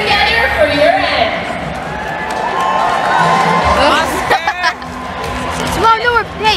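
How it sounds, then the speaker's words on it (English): An arena crowd at the Air Canada Centre during a Toronto Marlies hockey game, a steady loud hubbub of cheering and clapping with a voice talking over it. "All right, Air Canada Center, let's hear it. Put your hands together for your end."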